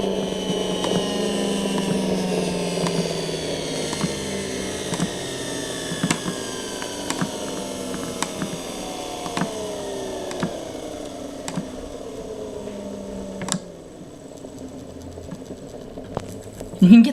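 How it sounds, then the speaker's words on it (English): A small electric motor driven from a Drok buck converter whines steadily, its pitch sliding gradually downward as the supply is adjusted, with faint regular ticks throughout and a sudden drop near the end. "you can hear the motor change pitch"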